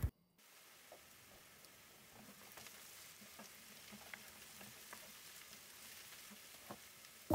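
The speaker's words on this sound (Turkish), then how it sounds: "2 adet büyük boy kuru soğanı doğradım ve bolca sıvı yağ ile kavuruyorum" Two large chopped dry onions fry in plenty of oil, giving a faint, steady sizzle dotted with soft crackles and pops throughout, without any talking.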